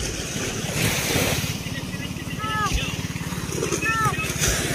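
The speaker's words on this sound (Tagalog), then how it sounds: "Ayan, laki ng alon!" Large sea waves wash and surge around a small boat whose engine won't start during a sudden rescue at sea, steady rushing water and wind noise throughout, with excited voices shouting over it.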